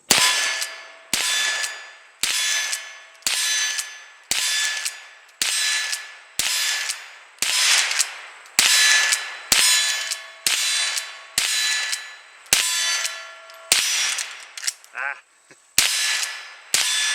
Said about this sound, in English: I'm going to see how fast I can get 16 rounds on the steel.